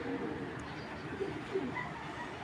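A Giribaz pigeon coos softly among other pigeons, producing faint, brief repeated coos over a constant low background hum, with no talk.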